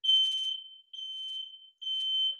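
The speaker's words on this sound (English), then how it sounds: "This alarm will go away" A smoke alarm sounds in a lecture room, three bursts of piercing high-pitched beeping, each a rapid chirping pulse followed by a steadier tone, separated by short pauses.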